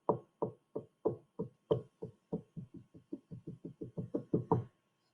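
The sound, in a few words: heavy tapping on a roof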